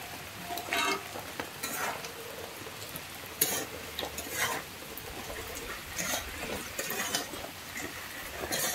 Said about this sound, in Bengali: আমি এটাকে একটু কষিয়ে নিচ্ছি